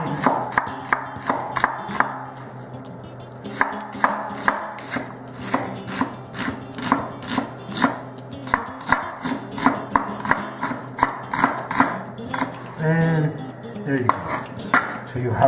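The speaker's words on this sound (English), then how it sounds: "So you use a nice onion, you're gonna slice it French way, or in Spanish we say juliana." A knife slicing an onion thinly, julienne style, on a cutting board for a veal stroganoff: brisk, evenly spaced crisp cuts in a steady run, loud and close, with a brief pause and no talking.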